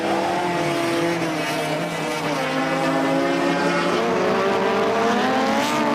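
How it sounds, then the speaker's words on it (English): Rallycross race car at the Oulu round of RallyX Nordic 2021, running wide with understeer into the last corner; a loud, steady engine roar with rising and falling harmonics as it accelerates, close and continuous throughout. "He's run a little bit wide there, bit of terminal understeer on the run into the last corner for Kautio."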